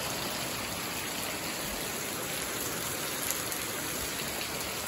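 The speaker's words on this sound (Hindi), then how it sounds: "गाइस अब हमने ले ली है ये चॉकलेट आइसक्रीम, तो और बारिश भी लग पड़ी है." Steady rain pours down in a dense, continuous hiss, loud and close, with no break.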